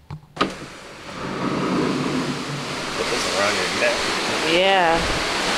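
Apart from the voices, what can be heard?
ocean waves at sea seen from cruise ship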